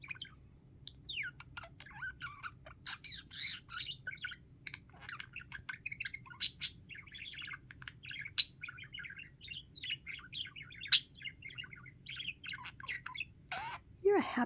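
A budgie (parakeet) chatters steadily, close by, with quick chirps, squawks and warbling trills that run with almost no break; a person talks softly in the background.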